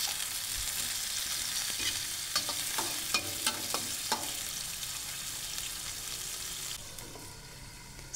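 Spiced chicken pieces cook in a covered wok with steady frying sizzle, a few soft scraping stirs and clinks in the middle, the hiss easing slightly toward the end; no talking.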